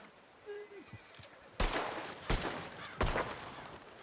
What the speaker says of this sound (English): Alice, you mind shooting a few rounds in the air?